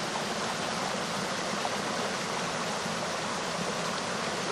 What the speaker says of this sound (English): Here's the crossing of the little stream